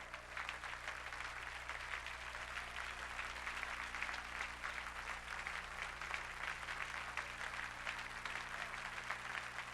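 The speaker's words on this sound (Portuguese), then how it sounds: "continuem aplaudindo o Senhor" A church congregation at an evangelical worship service keeps applauding in a steady, continuous roar of clapping, fairly faint and distant, with a low electrical hum running beneath it.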